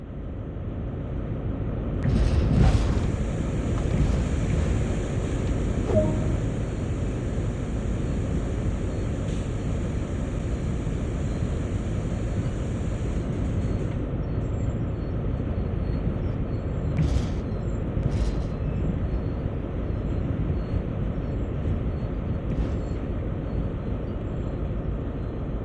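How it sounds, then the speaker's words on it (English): A train in a simulator game rumbles steadily as it slows under light brake to a gradual stop, with a long high brake whine that fades partway through and a few brief squeals later. "All you need to do now is bring the train to a gradual stop"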